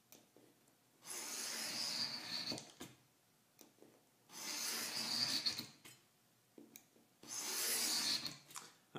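Hand scoring of a .025 aluminum sheet, three long scratchy strokes of about two seconds each, separated by quiet gaps, fairly faint and close.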